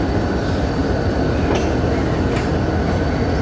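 The Pak Business Express train passes through Kotri Junction with a constant heavy rolling rumble, and two distinct clunks from the wheels or couplings stand out in the middle of the steady noise.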